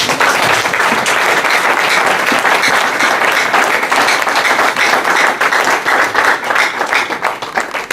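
A church congregation at a Sunday service in Strasbourg claps and cheers loudly together, a dense sustained burst of applause up close that slowly thins toward the end.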